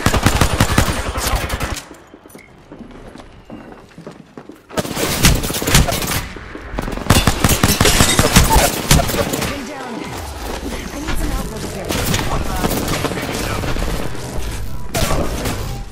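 Automatic and rapid weapon fire in the Apex Legends video game, loud bursts of shots with a brief lull, then sustained firing again, close and punchy.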